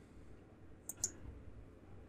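Computer mouse clicks while drawing in Archicad: two quick, crisp clicks close together in an otherwise quiet room, faint and near.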